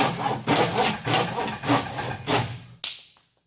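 A Silky Gomboy 210 mm large-tooth hand saw cuts through wood in about five rhythmic, rasping strokes up close, ending in a sharp snap as the piece breaks off, then quiet.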